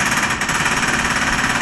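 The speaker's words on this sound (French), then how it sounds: "il y a même le marteau-piqueur en train de faire un passage" A jackhammer pounds away on a nearby street in Alfortville, a loud, continuous rapid hammering that fills the whole stretch without pause or voices.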